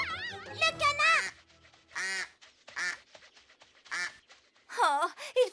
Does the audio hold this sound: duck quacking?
yes